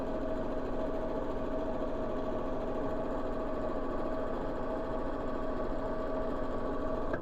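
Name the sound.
sewing machine sewing straight lines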